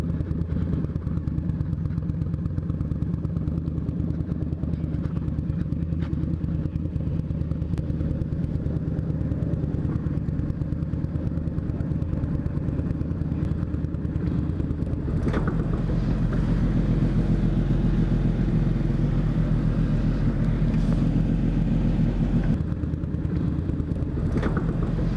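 A motorcycle engine idles steadily up close, a low continuous rumble that deepens and grows louder partway through, with no talking over it.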